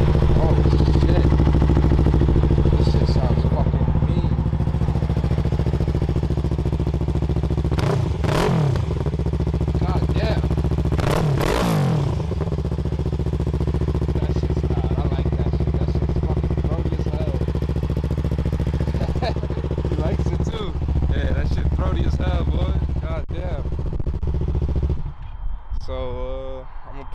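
A 2019 Yamaha R3 fitted with a CS Racing full exhaust idles loudly and steadily, with a couple of sharp throttle blips partway through and talk heard over the engine.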